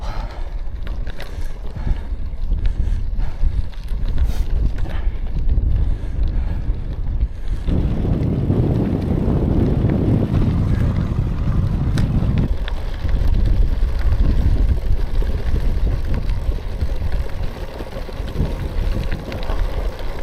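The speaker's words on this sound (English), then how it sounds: "The wind's quite fierce actually." Strong gusting wind buffets the microphone while an e-bike rides over a gravel road, a loud, continuous low roar that swells for several seconds midway, then eases back to a steady rumble.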